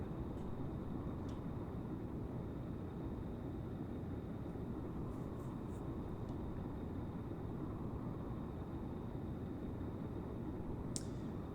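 Luun SRS light training helicopter flying in the game Stormworks: a steady, even rotor and engine drone held at constant level throughout, with a faint high whine above it and no talking.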